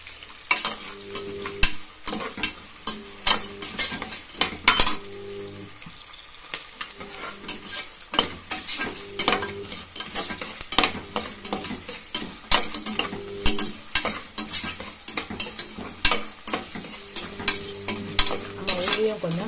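Onions with salt sautéing in a pan for tomato rice, a steady low sizzle broken by repeated sharp scrapes and clinks of a spatula stirring against the metal, close and without talk.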